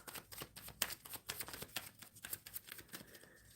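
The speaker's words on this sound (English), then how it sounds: "I'm shuffling for Romero." Tarot cards shuffled by hand during a live card reading: a steady run of crisp riffling snaps and soft slides, close and fairly quiet, with no talking over it.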